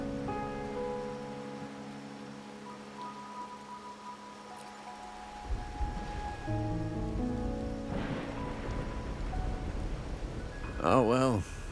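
Rain falls steadily at night in the game Wuthering Waves, a soft continuous patter under musical tones and brief speech, with a rise in intensity near the end.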